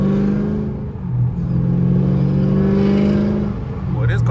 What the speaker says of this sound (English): Boy, this car barking